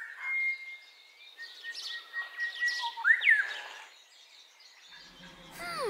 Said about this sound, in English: We can hear a bird. Let's record its lovely sound.